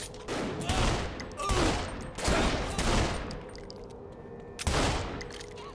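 Several bursts of rapid gunfire in Saints Row: The Third Remastered come in loud, close volleys with brief gaps between them, set over a steady background of game ambience.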